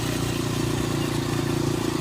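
A motorcycle goes by with a steady, close engine drone that stays loud for the whole short stretch.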